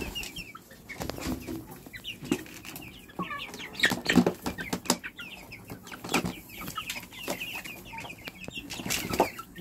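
Flock of Rhode Island Red and native chickens, plus Decaled White and BA birds about three months old, clucking and chattering nearby with occasional wing flaps, in a steady irregular stream.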